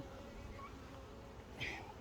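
Honey bees buzz around an opened beehive during hive inspection, a faint continuous hum with a few louder passes near the end, quiet and without voices.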